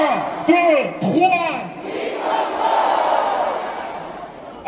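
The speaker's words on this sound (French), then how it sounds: "Je vais compter jusqu'à 3 et je veux entendre Free Congo." A large crowd at a solidarity concert for Congo in Paris shouts in unison, with rising chanted calls and voices swelling into a sustained roar of cheering.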